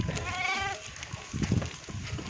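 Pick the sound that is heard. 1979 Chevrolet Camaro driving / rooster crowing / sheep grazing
sheep grazing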